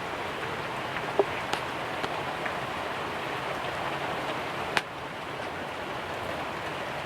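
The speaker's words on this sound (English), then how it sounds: "It's raining." Steady rain falls outdoors in a continuous soft hiss, with a few louder drips and taps scattered through it and no voices.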